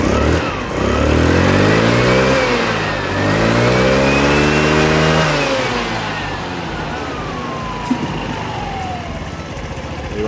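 A Kymco Agility 125 scooter engine with an idle fault revs up hard and loud, drops back, then settles into a steady idle with a faint rising whine.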